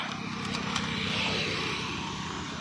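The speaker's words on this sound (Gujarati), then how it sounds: "હવે ચાલુ હોત કરી હાલો છે બંબુભાઈ કિક મારે છે" A Bajaj Pulsar motorcycle, just refuelled with petrol, being kick-started outdoors in the hot sun, heard as a steady, fairly loud engine rumble with broadband hiss and no distinct kicks, alone with no talk.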